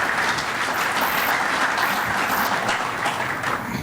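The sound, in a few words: audience applause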